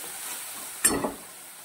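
Spice paste for a spinach and pea curry being sautéed in a pan, a brief burst of sizzling and stirring rising sharply for about a third of a second, then settling back to a low background hiss.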